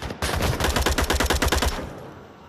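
Rapid automatic gunfire in the VR shooter Onward, a close, loud burst of about a dozen evenly spaced shots fired at a teammate, ending in a short decaying tail.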